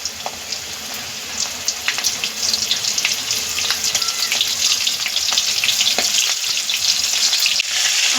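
Prawns drop into hot oil one by one and fry with a steady crackling sizzle, sharp pops and spatters scattered through it, growing a little louder as more go in; no voices.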